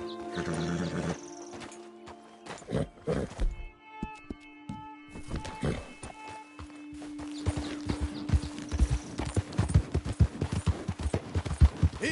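Horse hooves clip-clop in Red Dead Redemption 2, irregular steps growing busier and louder toward the end, with a brief whinny-like sound and a sustained tone in the middle.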